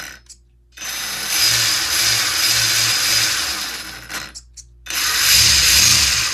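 The drivetrain of an RC car built on a Ryft chassis with a 3S battery, running in second gear, gives a loud whirring mechanical whine in two bursts separated by brief silences, with gear-like pulsing underneath.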